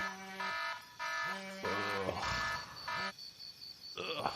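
A beeping electronic alarm pulses in repeated tones while a voice talks over part of it.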